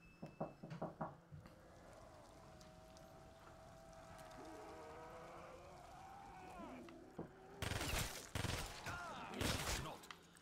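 Death Machine minigun fire in a zombies-mode video game, heard as rapid loud bursts late on after earlier scattered game sounds, under quiet game audio.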